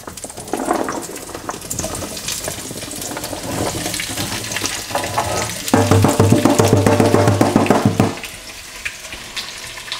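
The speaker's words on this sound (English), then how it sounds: "Just saute this a bit till the onions get a little translucent." Onions and vegetables sautéing in fat in a pot for a meatless butternut squash pozole, a steady sizzle with scraping and clatter from stirring, growing louder and denser midway before easing, with no talk.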